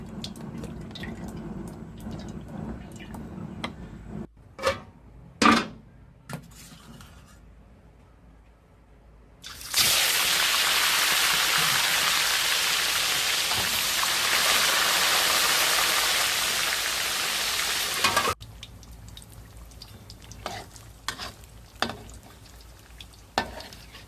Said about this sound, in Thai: ทอดจนเนื้อกรอบๆค่ะ กรอบข้างนอกนุ่มข้างในอยู่ค่ะพี่น้อง